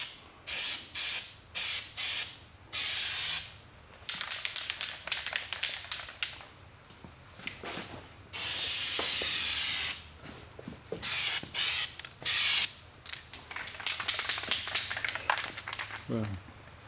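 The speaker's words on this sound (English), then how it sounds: "Put some undercoating in a can." Undercoating sprayed from an aerosol can under the dash of a 1976 TA SE, in repeated short hissing bursts of a second or two with brief pauses, close and fairly loud.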